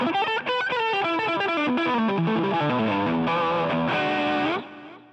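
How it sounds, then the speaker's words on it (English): An electric guitar played through a Boss GT-8 multi-effects unit on a clean amp setting with distortion, chorus off, strums a steady run of sustained, buzzy chords that ring loud and close before fading out. "if I want a clean amp with distortion, turn off the chorus"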